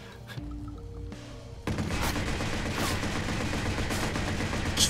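Pump-action shotgun fire in the Watch Dogs game, a loud dense burst of gunfire erupting after a quieter opening and continuing with sharp repeated blasts to the end.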